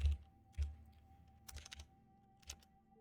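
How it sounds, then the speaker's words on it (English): Computer keyboard typing, a few scattered soft keystrokes with a light double tap near the end, faint and close against a quiet background with no voices. "It's a lot of typing."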